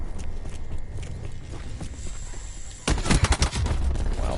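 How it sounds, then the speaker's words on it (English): Shotgun fire in a PS4 video game: after a quiet stretch, a quick run of loud, sharp blasts lands near the end, followed by continued rough noise. "shotguns are very bad in this game"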